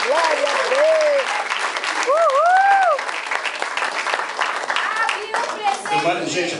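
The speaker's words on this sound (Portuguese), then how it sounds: "Aplauda ao Senhor." Church congregation applauding during a men's congress service, steady broadband clapping filling the clip while voices call out loudly over it, with shouts and cheers rising and falling.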